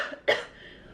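A single sharp cough bursts out close and fairly loud in a quiet room during a tarot card reading, fading quickly into soft background hiss.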